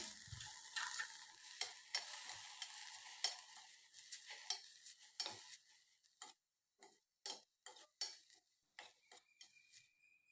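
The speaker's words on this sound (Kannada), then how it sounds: "ಈಗ 1/4 ಕಪ್ನಷ್ಟು ತೆಂಗಿನ ತುರಿ, 8-10 ಗಾಂಧಾರಿ ಚಿಲ್ಲಿ ಹಾಕ್ಕೊಂಡು ಫ್ರೈ ಮಾಡ್ತಾ ಇದ್ದೀನಿ" Grated coconut and Gandhari chillies fry in ghee in a pan, with soft sizzling and scattered ticking stirs that grow sparse and intermittent toward the end, close and fairly quiet.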